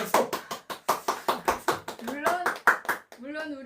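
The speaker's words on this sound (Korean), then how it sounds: "박수." Church congregation clapping in a steady, rhythmic beat of about a dozen sharp hand claps, close and loud, with voices joining in toward the end.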